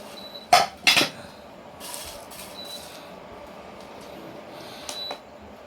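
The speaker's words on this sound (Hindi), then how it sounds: "अब हम अपने भुने हुए मसाले को प्लेट में निकालेंगे ठंडा करने के लिए।" Roasted pav bhaji masala spices are scraped from a metal pan onto a plate, giving two sharp clinks and scrapes up close, then softer faint scraping and a final light tap.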